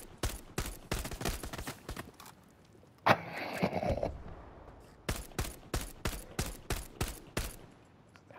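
Rapid volleys of video game gunfire crack in tight bursts, pause for a short scraping clatter, then resume with evenly spaced shots, loud and close.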